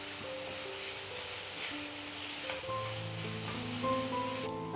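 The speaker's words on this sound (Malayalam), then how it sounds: "സവോള, ഇഞ്ചിയും വെളുത്തുള്ളിയൊക്കെ നമുക്ക് നന്നായിട്ടൊന്ന് വാട്ടിയെടുക്കാം" Onion, ginger and garlic sauté in a pan with a soft, steady sizzle and hiss throughout, fairly quiet beneath gentle background music.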